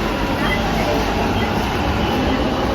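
Loud, steady rumble and hiss of a crowded metro station as a train runs, a continuous dense noise with no break.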